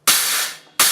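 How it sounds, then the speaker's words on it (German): A Thomas Lang Super Stack signature stacked cymbal struck twice: a bright, trashy crash that rings and fades for most of a second, then a second sharp hit, close and loud. "Das ist das Thomas Lang Super Stack, mein Signature Stack Symbol."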